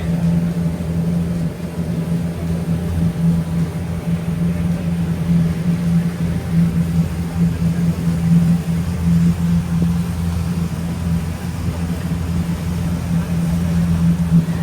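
A boat's engine on a lake gives a steady, droning hum that stays close and constant throughout, with no breaks.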